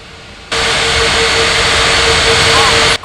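Jet airliner engines roar at takeoff at Gran Canaria Airport, a sudden loud steady jet blast that starts abruptly and holds with a faint whining tone before cutting off.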